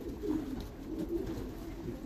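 A racing pigeon coos softly at close range, low murmuring calls repeating over a quiet, steady background with no talking.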